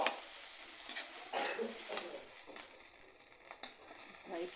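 Fenugreek leaves being stirred and fried in a pan for methi thecha, with repeated scraping strokes of a spoon against the pan over a faint, steady sizzle, close and fairly quiet.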